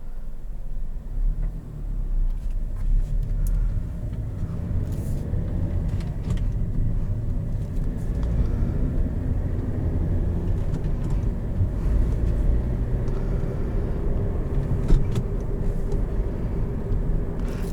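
A 2013 Hyundai Elantra GT with a manual gearbox cruising on the road, heard as a steady low engine and road rumble with tire noise and a few faint interior rattles, no talk over it.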